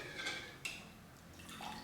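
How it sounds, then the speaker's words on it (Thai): Boiled breadfruit drains in a colander, water dripping off it in a few faint, soft, scattered drips over a quiet background hiss. "เราก็เอาขึ้นมาใส่กระชอนไว้ ให้น้ำตกลงไปข้างล่างแบบพึงให้มันแห้งอะค่ะ"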